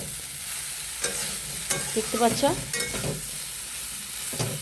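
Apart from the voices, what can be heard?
food frying in a pan while stirred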